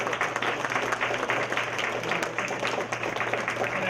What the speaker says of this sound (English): Let's give everyone up here a round of applause.